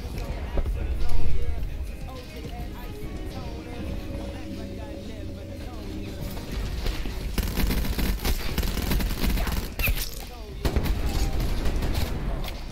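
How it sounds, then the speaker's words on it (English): Continuous gunfire in a video game, a long run of rapid shots with occasional heavier booms, moderately loud under intermittent talking. "I don't know what I was shooting right there. I just kept shooting."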